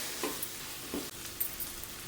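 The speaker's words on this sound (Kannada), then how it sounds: "ಇದು ಸ್ವಲ್ಪ ಚೆನ್ನಾಗಿ ಫ್ರೈ ಆಗಲಿ ಅಂದರೆ ಸ್ಮ್ಯಾಶ್ ಆಗಲಿ ಟೊಮೆಟೊ" Tomato frying in a pan while being stirred, a faint, steady sizzle with soft scraping stir sounds, no talking.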